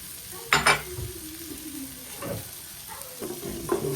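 Ground pork stir-frying in a pan for ginisang ampalaya, a soft steady sizzle broken by a few scraping, clanking stirs of a utensil against the pan.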